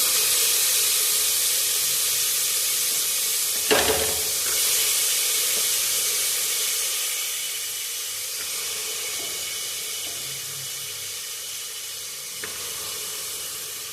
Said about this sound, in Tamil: காய் சேர்த்துட்டு நல்லா மிக்ஸ் பண்ணிக்கலாம்.